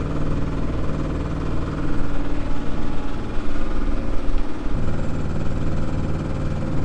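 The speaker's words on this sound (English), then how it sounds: "Just revved the engine up a little bit." An O'Day 28 sailboat's inboard engine idles with a steady low rumble and vibration, rising slightly in intensity for a few seconds as it is revved before settling back.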